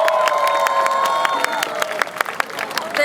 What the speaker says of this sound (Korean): 여러분 다시 한번 박수 부탁드리겠습니다.